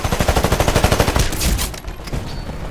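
Smart pistol firing in Titanfall, a rapid string of about fifteen loud, evenly spaced shots, then a whooshing burst and fading tail.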